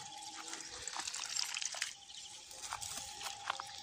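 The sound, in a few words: watering young bean plants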